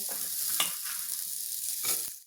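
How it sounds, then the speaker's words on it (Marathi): Onion roasting in a little oil in a pan for a dried-prawn curry, a steady close sizzle broken by a few brief scraping stirs, with no voices. "हा कांदा गुलाबी रंग येईपर्यंत भाजायचा."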